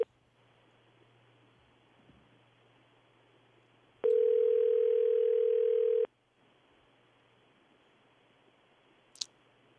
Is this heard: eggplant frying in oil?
no